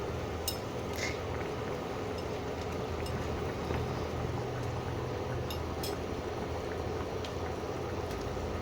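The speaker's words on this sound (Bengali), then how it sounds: "একটু ঝোলটা ফুটুক। ফুটতে আরম্ভ করেছে" Fish curry broth bubbling steadily in a pan, a soft continuous simmer with faint clinks now and then, quiet and close with no talking.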